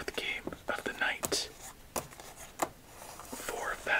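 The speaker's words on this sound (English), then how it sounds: "Let's do a casino shuffle for our fourth game of the night." A Bee casino-style playing card deck is shuffled at close range, giving crisp, irregular riffling bursts and sharp snaps over soft whispering.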